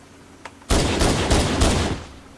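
Rapid gunfire from a weapon in the video game Halo CE on the Battle Creek map, a loud burst of several shots lasting under two seconds, close and alone with no talking.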